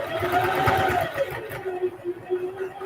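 A sewing machine stitches a mini duffle bag, its motor whirring in a fast run close by before slowing into a few shorter pulses.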